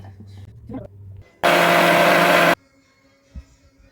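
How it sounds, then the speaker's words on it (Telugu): A kitchen mixer whirs loudly for about a second while mixing cream, a short burst between quieter moments with faint talk before it. "బాగా మిక్స్ అవ్వలేదని మిక్సీకి వేస్తున్నాం."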